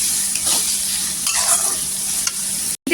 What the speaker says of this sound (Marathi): तेलावर परतून घ्यायचं आणि कांदा छान असा गोल्डन कलर पूर्णपणे करून घ्यायचं